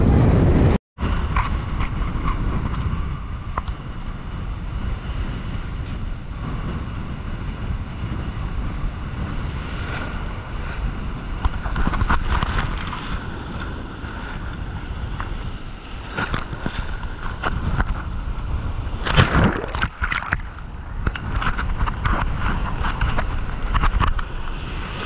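Strong wind buffeting the microphone at a beach where a river delta meets the sea, a loud continuous low rumble with gusts swelling and easing, surf faintly under it.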